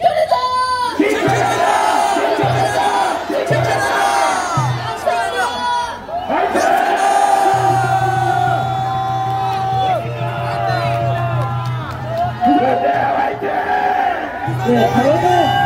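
A crowd of students at a university rally shouts slogans together in loud unison, with rhythmic chanted bursts and sustained massed yelling, near and continuous throughout.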